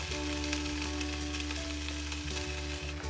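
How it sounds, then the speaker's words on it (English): Okra sautéing in tomato sauce in a pan, a steady close sizzle and frying crackle with a faint hum underneath, running evenly throughout with no talking. "You can just saute it with the tomato sauce."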